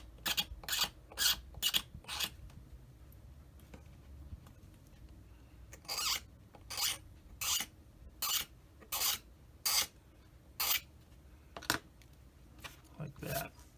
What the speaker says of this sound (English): they could just scrape some of it down to make it a little bit thinner